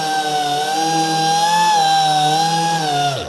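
A power sander fitted with a 3000 grit disc runs on car paint while blending out scratches, a loud, steady high motor whine that dips slightly and then winds down at the end.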